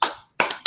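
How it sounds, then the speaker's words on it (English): Three sharp hand claps for fighter Jiri Prochazka at a UFC 275 watch-along, close and crisp, spaced unevenly with a short gap before the second and a quicker third. "let's give Jiri a clap"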